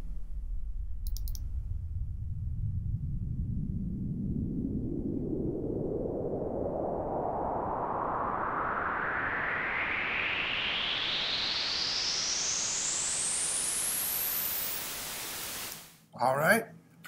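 A synthesizer filter sweep rises steadily from low rumble to a bright hiss over about fifteen seconds with a resonant peak riding the sweep, loud and alone, ending in a brief burst.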